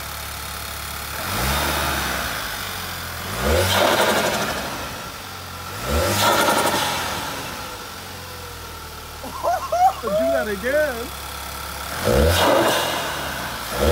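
A 2010 VW GTI with a 2.0L TSI engine starts and revs in several rising bursts, separated by idle, with a brief whir from the fitted Forge diverter valve between revs.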